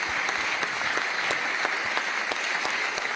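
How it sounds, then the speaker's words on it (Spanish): A seated audience breaks into steady applause at a public memorial talk, dense clapping filling the space from start to finish with no voices on top. "Bueno, un aplauso."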